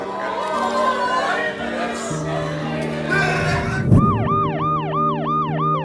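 An ambulance siren in Paris sounds as protesters make way for it. Crowd chatter and street noise come first, then a loud, sweeping, repeating wail cuts in near the end.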